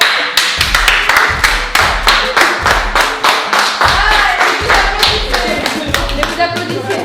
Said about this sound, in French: Mais vous applaudissez.